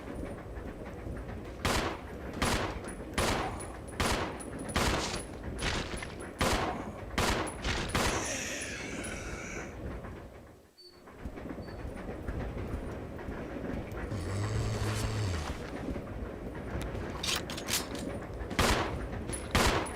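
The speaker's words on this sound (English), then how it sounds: "The reason why we want Rebecca's handgun is specifically to mop up these two zombies" Handgun fire in Resident Evil 0 HD Remaster as zombies are shot, a regular series of sharp loud shots spaced about a second apart, a brief pause, then more shots over low game ambience.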